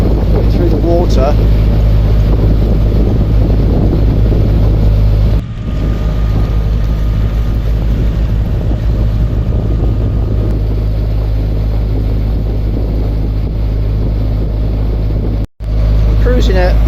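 A narrowboat engine chugs steadily at a cruising pace of about 1500 RPM on a tidal river, a loud continuous low drone with wind buffeting the microphone and short dropouts.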